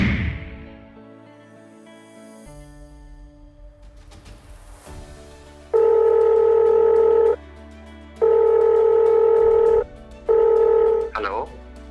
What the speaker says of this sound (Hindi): ट्राई करते हैं, मिलाते हैं हम मोबाइल नंबर